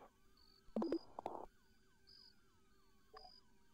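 Police sirens in the Arma 3 Life video game wail in a faint, repeating rising-and-falling sweep in the background, with a few short louder game noises on top.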